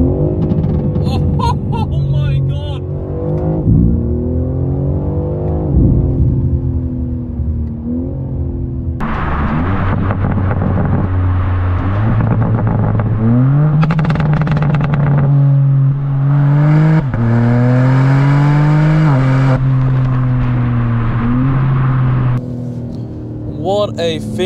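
A tuned 590 hp 2024 BMW M3 Touring with a 3-liter straight-six rumbles and revs loudly, with the exhaust popping and crackling as the throttle lifts, heard from inside the car with a voice talking over it.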